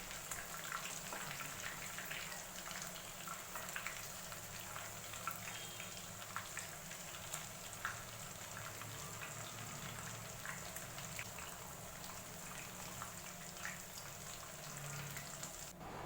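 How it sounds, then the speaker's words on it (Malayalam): Chicken pieces deep-frying in coconut oil, a steady, fairly faint bubbling sizzle that runs unbroken throughout with a few small crackles. "ഇതുപോലെ തന്നെ നമുക്ക് ബാക്കിയുള്ള ചിക്കൻ വറുത്തെടുക്കാം"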